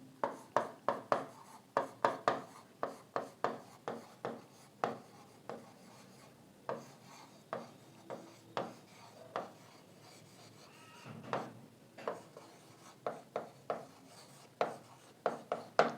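Pen or chalk writing out notes during a science and technology class, a quick run of scratchy strokes in bursts with short pauses, close and fairly quiet, no talking.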